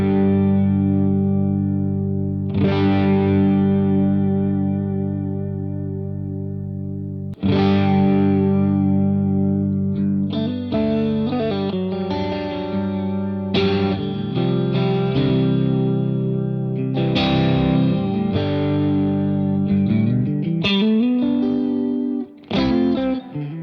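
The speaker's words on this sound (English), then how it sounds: "take us over into the vibrato mode" Electric guitar chords ring out with a wavering pitch modulation from a Walrus Julianna vibrato pedal, strummed in several phrases with pauses, no talking.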